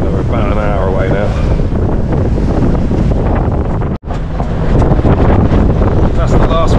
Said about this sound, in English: Wind's gone a bit squirrely. It's about 25 knots.